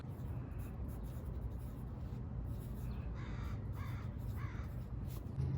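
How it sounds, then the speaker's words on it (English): A crow caws in a vegetable garden in midsummer, giving a few moderately close calls that stand out against a steady outdoor background hum. "Noisy crow."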